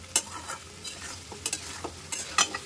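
Spice paste of onion, garlic, turmeric and cumin powder being stirred and fried for a Bengali potato curry, with spoon scrapes and short sizzling bursts coming in a loose rhythm, close and fairly quiet.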